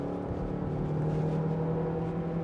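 A 2022 Toyota Glanza hatchback's engine accelerates through first gear into second, heard as a steady, moderately loud droning hum from inside the car, with no talk.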